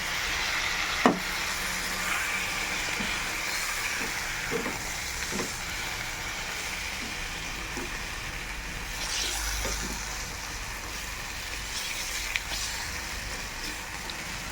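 Meat frying in a pan just after soy sauce is poured in, giving a steady, close sizzle throughout with a few scattered clicks of a utensil against the pan.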